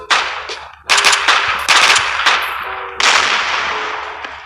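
P226 pistol fire in the mobile FPS game Coalition: several loud, sharp shots spaced irregularly, each with a bright metallic ring and a short decaying tail, heard alone.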